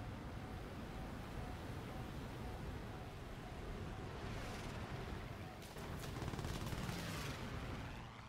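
Enemy aircraft gunfire rattles in short bursts during a jet-versus-propeller dogfight in War Thunder, muffled under steady engine and wind roar, with a clearer burst toward the end.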